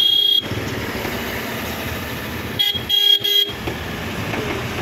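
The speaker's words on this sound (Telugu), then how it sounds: "ట్రాఫిక్ జామ్ అయిపోతూ ఉంది చాలా. లెఫ్ట్ సైడ్ నుంచి వాహనాలు, రైట్ సైడ్ నుంచి వాహనాలు, బైకులు, కార్లు" Congested road traffic with cars and motorbikes, engines idling and rumbling steadily while several short horn toots sound close by, clustered near the middle.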